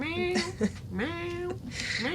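A house cat meows repeatedly and loudly close by, a series of drawn-out rising and falling cries with short gaps between them.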